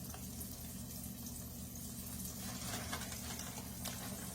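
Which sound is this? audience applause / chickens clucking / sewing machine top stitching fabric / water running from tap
water running from tap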